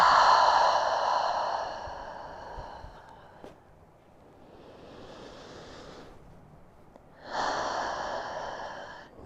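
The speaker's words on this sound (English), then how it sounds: "taking that deep breath in and letting it out" Slow, deep breaths drawn in and released during a calm yoga session, each long airy inhale and exhale close and clearly audible, separated by a quiet pause, with no talking over them.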